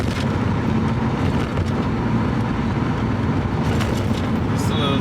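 A Porsche 928 driven from a stone-cold start hums along the road with a steady, close engine and road drone that holds level throughout, with a known interior rattle.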